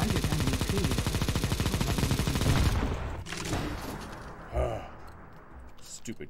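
Decoy grenade in a tactical shooter game spitting out fake bursts of rapid gunfire, loud and dense for about three seconds, then trailing off with scattered fainter shots under players talking.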